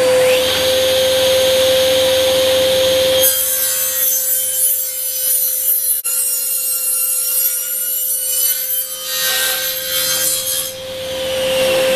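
A hand saw cuts square wooden stock to length in steady, rasping back-and-forth strokes. The sawing is loud and close and continues over a constant machine whine, with no talking.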